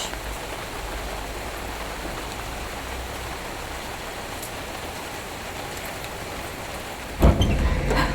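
Rain falls steadily outdoors in Kharkiv, an even, close hiss of drops on surfaces, ending in a louder burst of rustling near the end.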